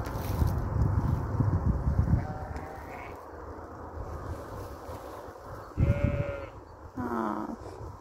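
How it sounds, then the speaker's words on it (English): Sheep and young lambs bleating in a countryside field, several distinct calls standing out near the end against a steady rumble of wind on the microphone. "Do you hear the sound of all the sheep here?"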